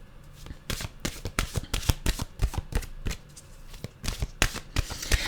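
A deck of mantra cards is shuffled close up, a quick run of crisp, papery riffles and flicks that patters along steadily for several seconds with no talking.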